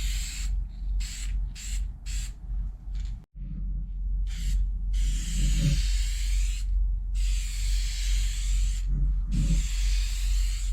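Factory color-matched Oxford white paint is sprayed onto a truck fender in short and long hissing bursts from a spray gun, close and fairly loud, with pauses between passes.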